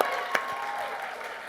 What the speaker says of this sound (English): Let's give a round of applause for Pat Miller